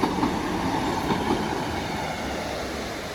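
A Class 150 diesel train rolls in to terminate at Preston station, a close, steady rumble with faint wheel clatter that eases slightly over a few seconds, no voices.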